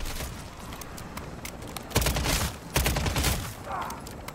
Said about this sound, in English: Someone threw a mortar strike over there.